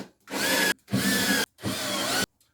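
A power drill drives 1.25 inch deck screws into wood in three loud, close bursts, each lasting about half a second to a second, separated by brief silences.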